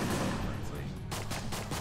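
Rapid gunfire from the video game Enter the Gungeon, a dense burst of layered electronic shots firing over a low, steady game soundtrack, growing busier partway through.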